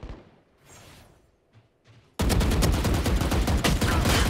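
Gunfire from a VALORANT in-game gun: after a quiet stretch with faint game sounds, a sudden loud burst of rapid, evenly spaced shots starts and keeps going through the end.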